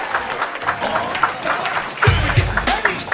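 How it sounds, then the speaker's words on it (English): Audience at a podcast induction ceremony breaks into applause and cheering, a dense crowd wash of clapping that swells toward the end while voices carry over it. "round of applause"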